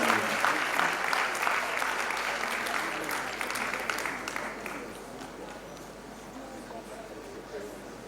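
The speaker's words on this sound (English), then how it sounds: "Please keep clapping." Enthusiastic audience applause at a student awards conference in Freetown, dense crowd clapping that starts loud and gradually thins, with a voice on a microphone partly audible through it.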